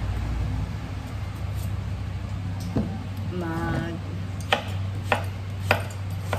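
A knife slicing vegetables such as string beans, squash, eggplant and okra for ginataang gulay: three sharp, evenly spaced cuts near the end, over a steady hum, with a voice briefly heard earlier.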